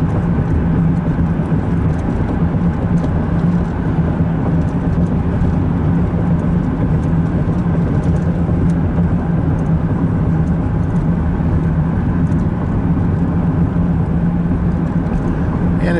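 A car travels south along a road in the early morning near Kingman, Arizona, giving a steady, unbroken drone of engine and road noise heard from inside throughout.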